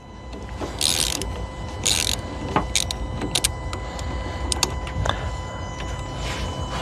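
A ratchet wrench loosens the nut on a car battery terminal, with short bursts of quick metallic clicks separated by brief pauses over a faint background hum.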